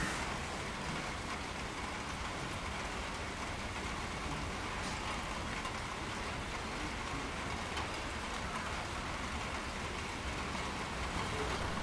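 Steady rain falling outdoors at a gorilla enclosure, a continuous even hiss of drops on surfaces with no voices, moderately faint throughout.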